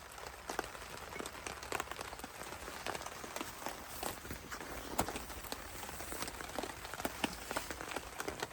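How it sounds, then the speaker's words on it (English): Rain falls on a camping tarp in a Dorset forest, a constant quiet patter broken by irregular sharper drops tapping close by. "When we got back from our day out, it decided to rain again."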